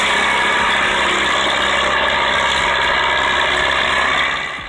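A powerful tractor engine runs loud and close with a steady, rough mechanical drone and rattle, holding even before tapering off at the end; no talking.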